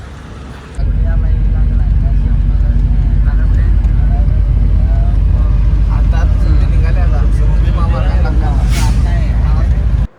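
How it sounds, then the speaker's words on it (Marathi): A car driving home at night through the Buldhana ghat, its steady engine and road rumble continuous and close for nearly the whole stretch, with talk over it. "आता हे आपली गाडी"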